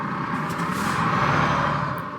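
A truck air brake in the Euro Truck Simulator 2 video game, a single drawn-out hiss of air over a low engine hum, swelling and fading within a couple of seconds.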